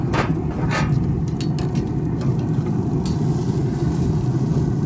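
Bell peppers sizzle on a hot grill for a steady, close, continuous hiss, with a few brief crackling bursts and clatters near the start and no talking.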